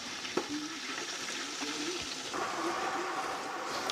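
Cabbage fries in oil in a pan with a steady, soft sizzle, and occasional scrapes and clinks come from the cabbage being stirred around. Faint voice-like sounds sit under the frying.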